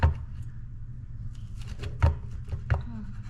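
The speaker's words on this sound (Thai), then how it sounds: "ตัดแบ่งครึ่งนะคะ" A knife cuts food in half on a cutting board: a few crisp, separate chops spaced about a second apart, with light clinking and quiet kitchen noise in between.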